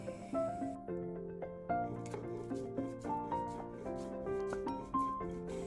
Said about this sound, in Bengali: তো সে কারণেই আমি এখানে আজকে শিলনোড়া ব্যবহার করছি। চলো এটাকে ভালো করে বেটে নিই।